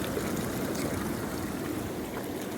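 Running water from a spa waterfall feature splashes in a steady, soft rush, continuous and unbroken at moderate distance.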